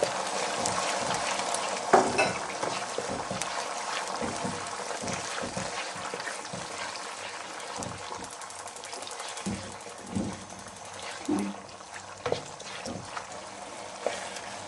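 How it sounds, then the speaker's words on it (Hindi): A spoon is worked steadily through semolina halwa cooking with milk in a pan over medium heat, giving repeated soft scraping strokes over a low background sizzle, close by and moderately quiet. "आंच को मीडियम रखें और इसी तरह चमचा चलाते रहें।"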